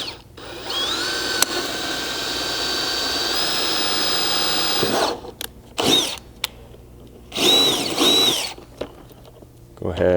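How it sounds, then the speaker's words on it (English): A power drill with a 1/4 inch bit whirs steadily for several seconds, then fires in short bursts against a plastic JL front door panel, loud and close. "I can grab a 1/4 inch drill bit and drill back through the outside of the panel"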